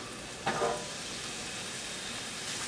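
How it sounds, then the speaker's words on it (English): Red and yellow peppers, onions and lemongrass stir-fry in hot oil with a steady, soft sizzle, and a brief louder burst of stirring or tossing sounds near the start. "we just want to stir fry this for a couple of minutes."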